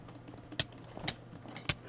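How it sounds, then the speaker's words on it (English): Quiet, sharp computer mouse clicks, some single and some in quick pairs, come at irregular intervals close to a sensitive microphone with no talking. "Sorry for the mouse clicking, must be really loud."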